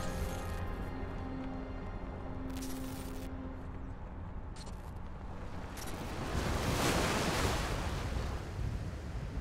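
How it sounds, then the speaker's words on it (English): Ocean waves crash and wash in at Friendship Park on the US–Mexico border, a steady distant surf that swells louder partway through, mixed with wind and no speech. "Talking over the sound of crashing waves at Friendship Park, Pastor John Fanistill preaches a sermon int"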